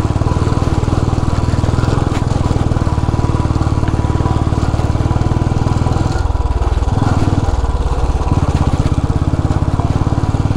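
A motorcycle engine labors up a rough mountain road to Dhorpatan, loud, close and unrelenting with a rapid chugging thrum, its pitch dipping briefly as the load shifts midway.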